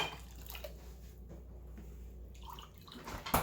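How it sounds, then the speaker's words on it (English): White vinegar, about three cups, poured into a container of processed horseradish, giving a soft, steady liquid trickle and splash that runs throughout, close and fairly quiet, ending in a brief louder splash. "we're going to put about 3 cups of white vinegar in here"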